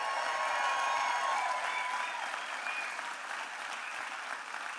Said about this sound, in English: Let's give a round of applause to Pastor Billy Smith and the Christ Chapel team.